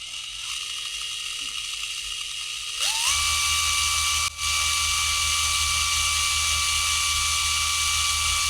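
A brushless motor in a Losi Micro B RC car spins up with a rising whine, settles into a steady high-pitched electric whir and holds it loud and close.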